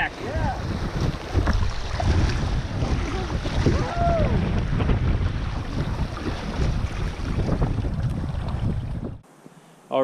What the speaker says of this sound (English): running some pretty sweet set of rapids here, some class twos and whatnot